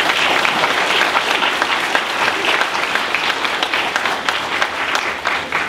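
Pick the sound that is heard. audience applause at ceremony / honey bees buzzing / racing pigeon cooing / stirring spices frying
audience applause at ceremony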